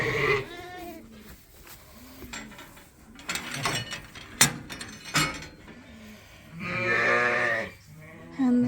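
Sheep bleating in a barn at lambing time; several close, wavering bleats over a busy background of shuffling and clanking noises, with one loud long bleat near the end.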